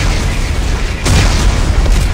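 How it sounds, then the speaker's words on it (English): Explosives detonate in the sci-fi video game Dead Space 3, a loud broadband blast that swells about a second in and rumbles on heavily to the end, with no talk over it. "Computer, arm explosives."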